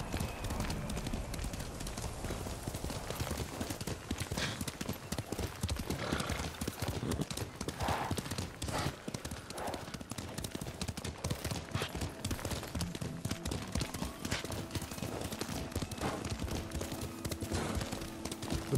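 Horse hooves gallop in the video game Ghost of Tsushima, a fast continuous clip-clop that runs throughout, loud and close, with an occasional whinny and battle noise mixed in.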